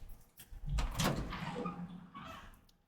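A door is pushed shut indoors, giving a single soft thud with a brief scrape or creak around the middle, fairly faint against quiet room noise.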